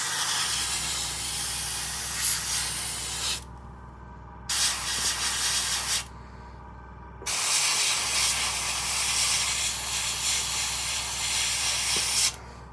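An airbrush or spray can mists another coat of paint onto a 1/56 Rubicon Panther Ausf.D model tank kit, three long steady hissing bursts separated by short pauses, close and fairly loud.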